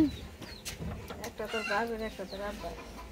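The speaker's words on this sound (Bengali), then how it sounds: "আমার বাবির মুরগিতে ডিম পারছে 11টা।" A hen clucks repeatedly close by in a rural yard after laying eggs, with a voice also heard briefly.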